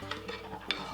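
Quick scraping stir of a spoon through a carne asada marinade seasoned with garlic powder, salt and pepper, a few soft close strokes lasting under a second.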